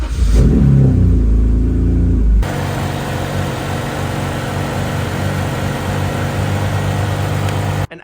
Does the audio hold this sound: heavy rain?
no